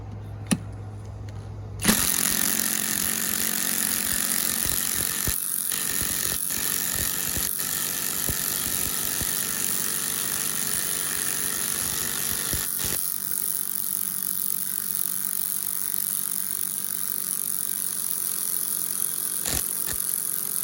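Hercules 20V compact impact wrench at speed 3 driving a lag bolt: a loud, continuous buzzing hammer of the impact mechanism that starts abruptly and runs steadily for about eighteen seconds, close up, with no talk.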